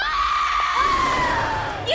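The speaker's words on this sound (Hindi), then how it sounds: "ये किसकी चीख है?" A long, high-pitched scream rings out in a horror drama scene. It is sustained and piercing and slides slightly downward in pitch, with no other voices heard.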